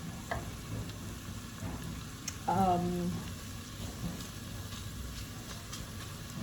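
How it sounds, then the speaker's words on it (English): Onions cooking down in a pan for Pampered Chef chili give a steady, soft frying sizzle throughout, with a brief stir or scrape near the middle and a quiet rumble underneath. "what I'm trying to do right now is just to cook these onions down"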